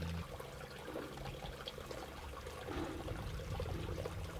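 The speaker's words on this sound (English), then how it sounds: "Just a wall of snow, and it's just dripping." Meltwater dripping and trickling from a wall of snow at about 10,000 feet in Utah's mountains, a continuous soft watery patter heard alone at low level.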